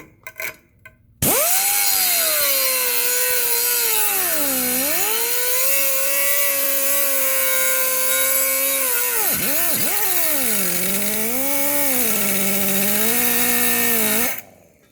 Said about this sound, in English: it's very easy for your Sawzall to do its job, and much safer